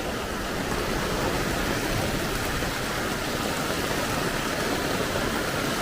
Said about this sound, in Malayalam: എന്നാലും അവിടെ മഴ വെള്ളം വീഴുമല്ലോ.